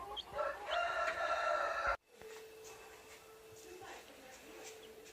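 A Cochin hen clucks loudly and her Cochin chicks peep close by at first; after a brief cut, soft scattered chick cheeps continue quietly.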